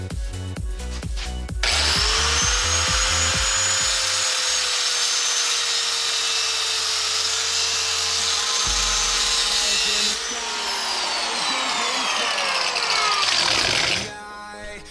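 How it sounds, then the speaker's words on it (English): A power tool scores angle iron in a workshop, giving a loud, steady high-pitched grinding whine for about eight seconds that shifts pitch slightly and then spins down before stopping. "Make sure you score right below the line you marked out"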